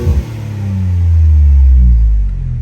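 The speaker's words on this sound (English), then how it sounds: "blow-off valve is installed, and this is how it sounds" Engine of a 2017 Ford Fusion Sport with a Boomba blow-off valve and muffler delete, a short throttle blip then a loud, steady low rumble that swells and holds before easing slightly.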